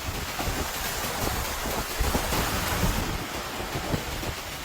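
Strong winds from a supercell thunderstorm over Calgary, Alberta, roar as continuous loud broadband rushing with surging gusts and no voices.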